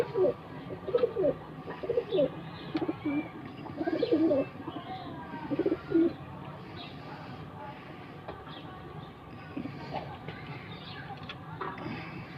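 Soft cooing from a Chinese fancy pigeon comes in short bursts nearby over a low background hum, with quiet gaps between calls.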